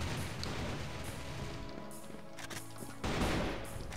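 AK rifle gunfire in the video game CrossFire: a steady stream of muffled shots under game noise, swelling into a louder, closer burst toward the end.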